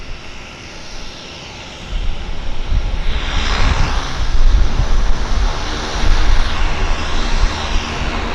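A de Havilland Caravan floatplane starting up at a harbour dock, its engine rising from a low idle into a loud, building drone that swells and pulses, with water and wind noise underneath and no voices.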